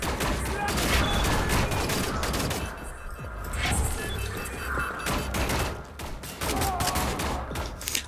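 Dense rapid gunfire from pistols in Wolfenstein: The New Order, loud bursts of shots and impacts crowding the whole stretch, with a voice talking underneath.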